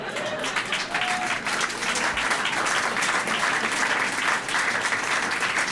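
Sustained applause from a comedy club crowd in Ottawa fills the room, dense steady clapping that holds at an even level from start to finish with no voice over it.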